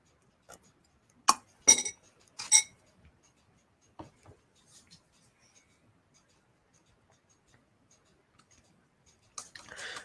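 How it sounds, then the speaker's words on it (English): A glass clinking while water is being drunk during an online webinar, a few sharp clinks and taps close by in a quiet room, then faint small sounds and a brief rustle near the end. "Let me drink some water first."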